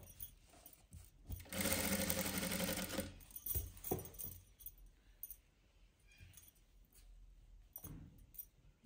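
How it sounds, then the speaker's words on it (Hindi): A sewing machine stitches a fitting seam on a velvet kurti in one steady, loud burst of rapid stitching lasting about a second and a half, followed by quieter handling clicks and rustles of the fabric. "ये कमीज की फिटिंग की सिलाई लगाऊंगी"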